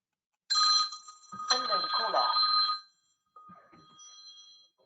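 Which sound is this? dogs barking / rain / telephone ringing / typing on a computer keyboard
telephone ringing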